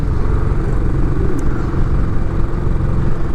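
A Classic 500 motorcycle rides along toward the beach, its engine a steady, continuous low rumble with wind noise, loud and close throughout with no talk.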